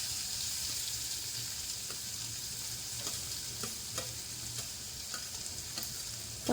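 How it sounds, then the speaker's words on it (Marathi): Finely chopped onions frying with curry leaves for green pea usal make a steady, close sizzle in the pan, with regular scraping strokes of a spoon stirring through the oil. "आता यामध्ये आपण टाकणार आहोत कांदा."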